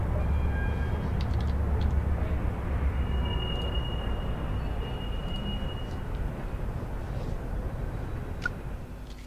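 A Class 800 train in a simulator running on the line toward Peterborough, giving a steady broadband rumble and roar throughout, moderately loud and continuous, fading slightly near the end, with no talking.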